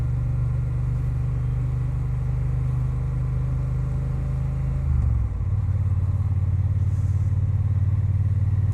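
A Triumph Bonneville T120 motorcycle rolls at slow speed, its engine giving a steady low rumble with a brief shift in pitch midway, heard from on board and without talk.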